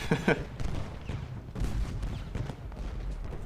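Musket volleys from Civil War infantry in the Ultimate General: Gettysburg strategy game, a dense run of overlapping shots and booming reports that keeps going at a steady battlefield level with no gaps.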